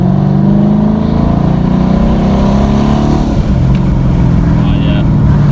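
A 2010 Dodge Challenger R/T with a naturally aspirated V8 accelerates after a downshift into second in manual mode, its engine a loud, steady, close-up drone from inside the car.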